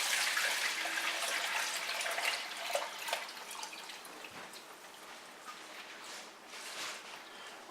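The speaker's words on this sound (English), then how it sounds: "And we're gonna pour it into our container." Warm goat milk is poured from a pot into a container, making a steady, close liquid splash and trickle that slowly eases off, with no talking.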